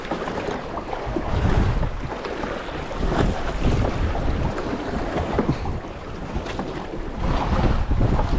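Strong waves and gusting wind around a boat at sea, a loud continuous roar with heavy wind buffeting on the microphone and surging water swells, no voices.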